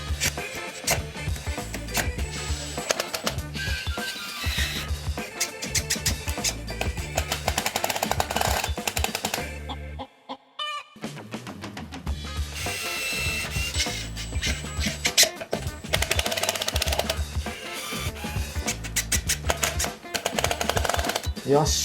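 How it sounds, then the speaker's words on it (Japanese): A power driver drives 65 mm screws up from below into a wooden shelf during an old Japanese house bedroom DIY build. Loud, busy whirring and rattling bursts go on, with a short quiet break midway, and someone speaks at times. "下からこの長さ 65mm のビスで留めたいと思います"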